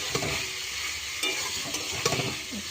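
Meat sizzles softly in a frying pan, a steady low crackle broken by a few scraping stirs, close and fairly quiet with no talking.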